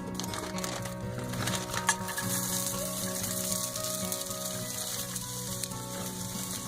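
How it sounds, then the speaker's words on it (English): Sausage skillets sizzle and fry steadily in a hot pan over a fire, a continuous close hiss and crackle with a brief pop near the start and no talking. "put our sausage skillets in here."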